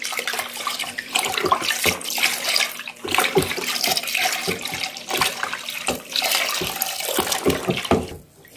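Liquid disinfectant poured into a container of homemade cleaner, a steady splashing, gurgling stream with uneven glugs, close and moderately loud, ending abruptly.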